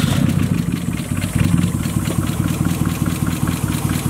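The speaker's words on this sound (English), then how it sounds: "Wow, it actually started," A car engine running with engine oil used in place of coolant settles into a steady, rumbling idle with a slight mechanical clatter, heard close and loud with no talking.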